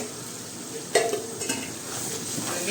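Curry of cluster beans, potato and peanut fritters stirred in a pan after sugar is added: a low, continuous sizzle with a few clear scraping strokes of the spoon.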